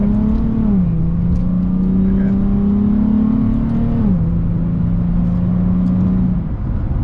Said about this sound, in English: it picks up nicely. Yeah, it's pretty peppy engine